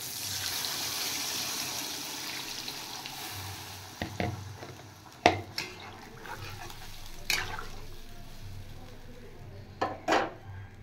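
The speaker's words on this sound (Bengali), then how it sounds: "এবার আমি জল দিয়ে দিচ্ছি" Water is added to a pan of sautéed potatoes for a Bengali vegetable curry, bringing up a steady sizzling hiss broken by a few sharp clinks and scrapes of a utensil against the pan.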